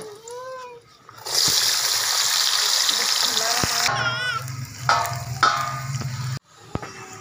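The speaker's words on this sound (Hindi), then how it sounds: "चिप्स हमारी फ्राई हो गई है, बहुत ज़बरदस्त माशाल्लाह" Potato chips frying in hot oil in a home kitchen, a loud steady sizzle and crackle that runs for several seconds, then drops away to quieter sputtering with brief clatter and a voice nearby.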